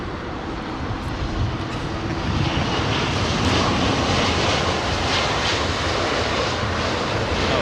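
A Boeing 777 airliner landing at London Heathrow in gusty wind: a loud, steady jet engine roar that swells and holds close, mixed with broadband wind rush across the whole clip.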